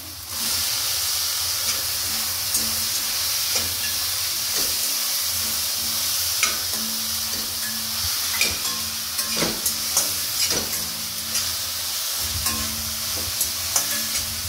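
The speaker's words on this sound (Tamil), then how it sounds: "இப்போ இந்த மஷ்ரூம் போட்டுறேன்." Mushrooms frying in a pan with Chukka masala, a steady loud sizzle and hiss running throughout, with occasional stirring scrapes and clicks on top.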